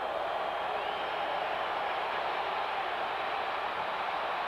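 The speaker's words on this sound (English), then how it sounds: "Crowd sensing the importance of this 3rd down." A football stadium crowd at a Los Angeles Raiders at Dallas Cowboys game makes a steady, distant roar of noise that holds at a constant level throughout.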